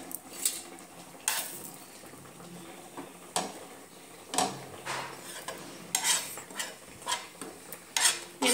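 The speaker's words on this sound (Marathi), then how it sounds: "आता आपण खोबऱ्याचं किस भाजून घेऊया।" Grated coconut dry-roasting in a pan as it is stirred, with soft scraping and spoon taps against the metal coming in scattered bursts, faint and close, with no voices.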